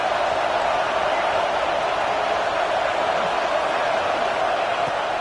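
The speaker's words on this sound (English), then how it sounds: "Listen to this crowd just shaking the girders of this place" Loud, dense roar of a college football stadium crowd in Tennessee, a steady wall of cheering and noise that holds without break throughout, the crowd pushing to help its defense on a third-down play.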